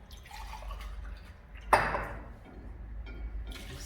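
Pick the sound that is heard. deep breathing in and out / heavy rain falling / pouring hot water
pouring hot water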